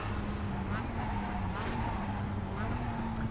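An MX-5 Cup race car engine in the iRacing sim hums steadily at moderate volume with a faint tire squeal, while a voice talks over it.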